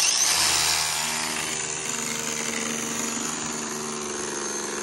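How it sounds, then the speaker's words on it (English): A power drill bores through the channel of a post near the rebar, a steady loud whine with a hard initial burst that settles into an even grinding drone, no talk. "Just keep drilling through."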